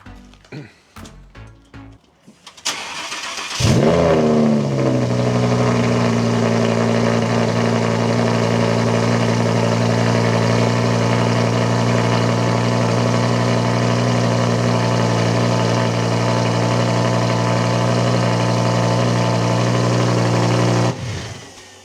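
Lamborghini fitted with an F1-style exhaust cranks briefly, then fires up with a sharp bark and settles into a loud, steady, rumbling idle held close for many seconds, with a little talk and clatter before the start.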